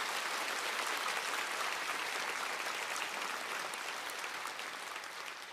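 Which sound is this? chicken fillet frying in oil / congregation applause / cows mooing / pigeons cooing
congregation applause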